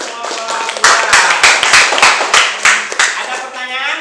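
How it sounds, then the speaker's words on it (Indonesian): A small group clapping for a presenting group in a classroom, irregular uneven claps up close over a few seconds, with a voice talking alongside. "berikan tepuk tangan untuk kelompok"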